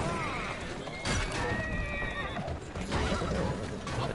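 A horse pulling a carriage in a video game whinnies repeatedly over steady hoof clatter and rolling noise, with a voice talking over the top.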